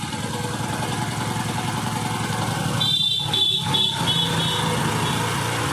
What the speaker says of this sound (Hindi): फ्यूल और एयर स्क्रू को ढीला कर रहे हैं बाइक का रेस बढ़ रहा है, आरपीएम बढ़ रहा है ऑटोमेटिक।